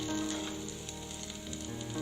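Onions sizzle while sautéing in a pan for tomato chutney, a soft, steady crackling hiss at low volume with no talking.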